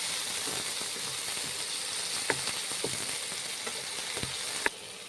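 Onion and tomato fry in an oiled wok, a steady close sizzling hiss with occasional sharp clicks and scrapes of a utensil against the pan.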